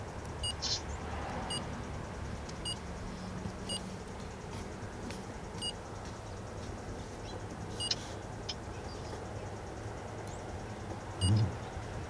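A 3rd-generation Cummins diesel pickup idles just after starting up, a low steady rumble heard from inside the cab with faint periodic chimes and a brief thump near the end, no talk.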